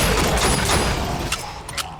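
A stun grenade blast erupts amid bursts of gunfire in the Aliens Fireteam Elite shooter, dense crackling shots and a booming burst crowding together loudly, followed by a few sharper isolated reports.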